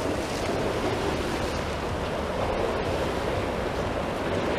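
Continuous wash of sea surf at Blackpool with a broad, rushing hiss, mixed with wind buffeting the microphone, no voices.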